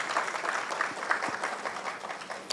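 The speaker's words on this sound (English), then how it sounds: "Can we please welcome him with a round of applause?" An audience at a keynote event claps steadily as a speaker is welcomed to the stage. The applause is moderately loud, diffuse and unbroken.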